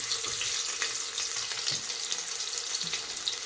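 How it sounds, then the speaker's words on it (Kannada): Onions sizzling in oil inside a pressure cooker, a soft continuous frying hiss with faint stirring clicks, no voices. "4 ಸ್ಪೂನ್ ಎಣ್ಣೆ ಹಾಕ್ಕೊಂಡಿದ್ದೀನಿ. ಈಗ ಈರುಳ್ಳಿ ಹಾಕ್ಕೊಳ್ಳೋಣ"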